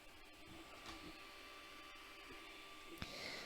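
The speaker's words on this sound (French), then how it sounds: "Voilà le filament qui est en train d'être extrait." Creality Ender 3 Pro 3D printer extruder pushing PLA filament, a faint, steady mechanical whir with small ticks and one sharper click near the end, quiet and close, with no talking.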